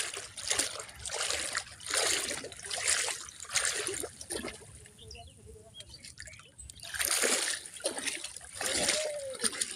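Floodwater runs and splashes into a waterlogged field after rain, a steady trickling and sloshing broken by louder surges, with a person talking over the flow.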